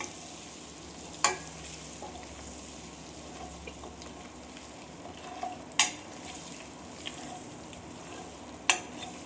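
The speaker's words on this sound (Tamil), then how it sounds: "இது வந்து இதை நல்லா இப்படியே வந்து வதக்கணும்" Quail eggs sautéing over a low flame in a pan, a quiet continuous sizzle with three sharp spatula clicks spaced a few seconds apart, close and alone.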